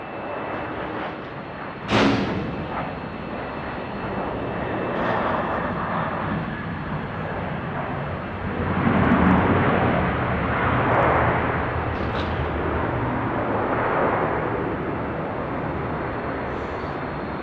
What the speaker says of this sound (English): So that's the Jetstar. It's just come in.